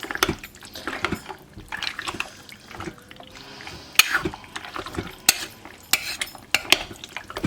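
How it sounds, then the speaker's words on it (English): A spoon stirs food in a pot over heat on a homestead kitchen stove, making steady scraping and wet sloshing sounds with sharp clinks against the pot's side, close and alone. "And then we're gonna give it a good stir."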